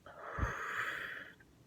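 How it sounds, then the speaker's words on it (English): A single drawn-out, wheezy inhale of cigarette smoke drawn through the nose, close and quiet, lasting just over a second after a soft puff. "I like to French inhale"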